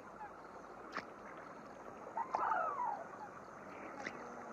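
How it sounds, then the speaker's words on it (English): Large wading birds such as black-necked storks and sarus cranes at shrinking dry-season pools give a few harsh honking calls in the middle, faint and somewhat distant over steady outdoor background noise. "Black-necked storks and Sambars cranes crowd into the dwindling pools to reap the harvest of the dry weather."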